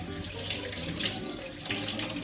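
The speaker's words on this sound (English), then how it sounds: "now I'm gonna rinse the blade" A blender blade being rinsed under a running kitchen tap, with a steady, close splash of water into a sink throughout and no talking.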